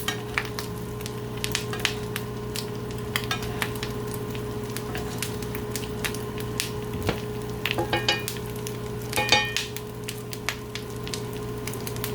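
Salmon patties fry in butter in a very hot pan, giving a steady sizzle with scattered sharp pops and crackles throughout, close and fairly quiet, with no talking.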